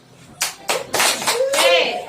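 Group of mothers at a health session doing a rhythmic clap chant, a few sharp, close claps in a short pattern, mixed with voices chanting along.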